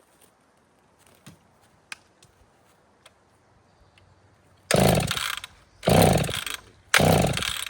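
A ported chainsaw started without choke, firing in three loud, brief bursts after a quiet stretch of faint ticks and clicks.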